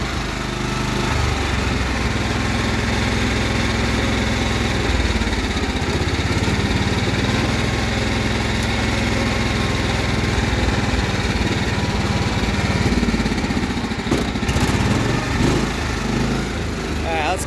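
The engine of a Cub Cadet 1330 lawn tractor runs steadily, a loud, continuous mower-like drone that holds its pitch throughout, with a few faint clanks near the end.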